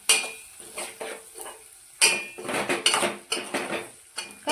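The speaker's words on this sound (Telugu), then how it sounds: "ఆలుగడ్డ ఫ్రైలో కొంచెం ధనియాల పౌడరు వేసుకొని మొత్తం తిప్పుకుంటున్నా." A spoon scraping and clinking against a pan while stirring potato fry mixed with coriander powder, in quick irregular bursts with a faint sizzle underneath.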